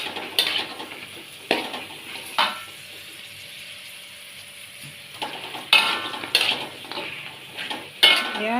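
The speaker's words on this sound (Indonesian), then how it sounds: "Saya coba goreng ya teman-teman dengan 2 wajan ya." Fish crackers (kemplang) made from payus fish fry in oil across two woks, a soft sizzle under repeated sharp metallic scrapes and clanks of a utensil against the pan.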